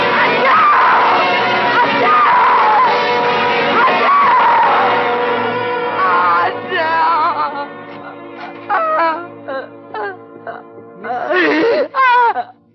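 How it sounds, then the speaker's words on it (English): A woman's screams and wailing cries in an old radio drama, loud and sustained at first, then breaking into shorter anguished bursts before a final sharp outburst. "You mustn't scream like that."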